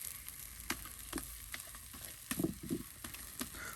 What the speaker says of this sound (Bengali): এখন কিন্তু তেলে ভেজে নেওয়া হলো মসমসে একদম তেলে ভাজা আলু ভর্তা